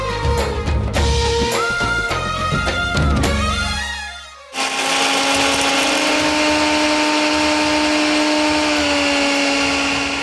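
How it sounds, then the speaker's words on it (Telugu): A kitchen mixer grinder roars steadily for several seconds, grinding roasted lentils and dry chillies into powder, its loud motor whine holding one pitch after a brief stretch of other kitchen sound. "దీన్ని ఇప్పుడు మిక్సీ పెట్టేస్తాను"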